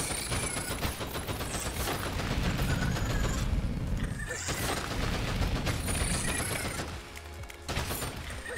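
Rapid gunfire from the player's gun in the video game Pepper Grinder, dense repeated shots packed into a loud, busy mix of game music and effects that runs almost without a break.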